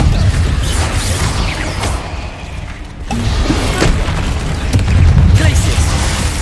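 Confringo spell blasts in the video game Hogwarts Legacy, repeated booming bursts and thuds amid game combat noise and music, with a voice speaking over parts of it.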